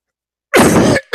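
A single close, loud cough with throat clearing bursts out of silence, followed by a brief second rasp.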